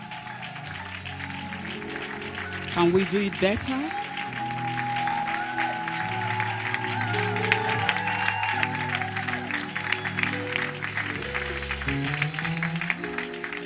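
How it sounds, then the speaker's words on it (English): A church congregation claps steadily and grows louder at a Sunday service, with sustained keyboard music underneath and a preacher's voice breaking in briefly. "Can we clap with confidence,"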